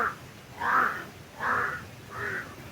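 Crows caw four times in an even rhythm, each harsh call clear and moderately loud against a quiet background.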